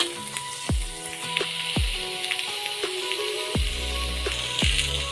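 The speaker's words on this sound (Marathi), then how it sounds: "मी कांदा आहे ते भाजायला घातला आहे ते थोडं गोल्डन होईपर्यंत आपण भाजून घेऊया" Chopped onion frying in a pan until golden for Kashmiri dum aloo: a steady sizzling hiss broken by several low, dull knocks and clatters of utensils, with no voices.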